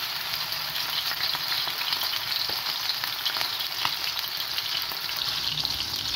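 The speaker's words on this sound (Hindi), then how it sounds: "मैं तवे पे बना रही हूँ और वो हो गया है ऑयल गरम। इसी तरह बना के तो डालते जाएं।" Chapli kebabs sizzle steadily in hot oil on a tawa griddle, a close, continuous crackling fry with no talking.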